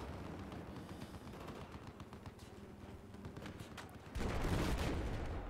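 Rapid gunfire from a Battlefield 4 multiplayer match, dense bursts of shots running throughout and swelling louder and heavier near the end.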